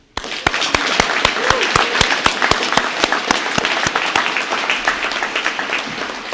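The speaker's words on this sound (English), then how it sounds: "let's give him an especially warm and loud round of applause" A warm, loud round of applause at a 2015 graduation ceremony: a large crowd clapping in a sustained wash, with a few sharp, distinct claps standing out near the front and a faint voice underneath.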